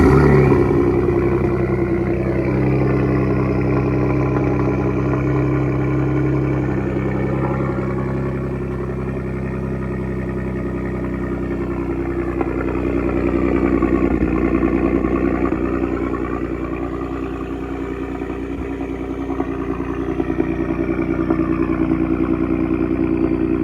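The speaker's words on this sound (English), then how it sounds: "Truck is so much louder in person, guys. Turbos." A large turbocharged truck engine rumbles steadily at idle, a deep continuous drone with a faint mechanical whine above it and no talking.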